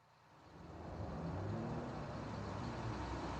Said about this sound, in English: Look, here comes a bus.